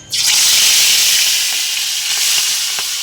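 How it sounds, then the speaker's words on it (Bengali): Rohu fish pieces hit hot oil in a kadai, and a loud sizzle rushes up almost at once and holds steady, with faint ticks of spattering oil. "তো চলো আমরা ততক্ষণ মাছগুলো ভেজে নিই।"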